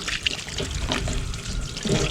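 Cleaned crabs rinsed under running water, a steady close splashing and trickling stream that flows continuously throughout.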